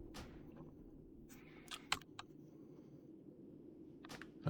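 A few scattered keyboard keystrokes tapped during a World of Warcraft session with an Orc Warlock, faint clicks and taps over steady low background hum, no talking.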